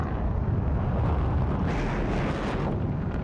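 Deep, rumbling blast from a Panzer IV/70 tank gun in a video game, a loud, close boom that rolls on as a continuous low roar with no talking over it.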